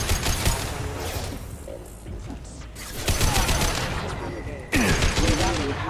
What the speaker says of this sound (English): Firing high impact shot.